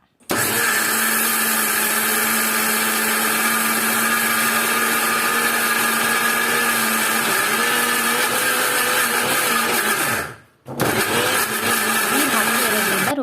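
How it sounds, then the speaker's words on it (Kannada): Mixer grinder grinding urad dal batter for medu vada, a loud, steady, high-pitched motor whine running continuously, briefly stopping near the end before starting again. "ಸ್ವಲ್ಪನೇ ಸ್ವಲ್ಪ ಹಾಕಿ ಈ ರೀತಿ ಸ್ಮೂತಾಗಿ ರುಬ್ಕೊಳ್ಳೋಣ"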